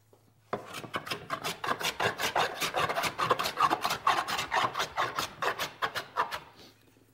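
A hand plane fitted with a toothed blade shaves wood in a fast series of about two dozen rasping strokes, each a close, scratchy scrape, steady and loud with no talking.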